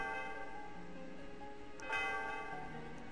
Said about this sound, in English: Okay, ring the bell, I guess.